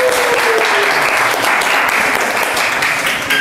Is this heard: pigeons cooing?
no